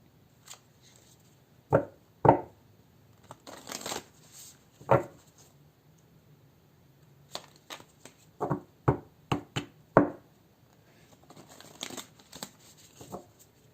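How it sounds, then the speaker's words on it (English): Tarot cards being shuffled and riffled in bursts, crisp slaps and flicks close by with short pauses between, no talking. "while I'm shuffling these cards"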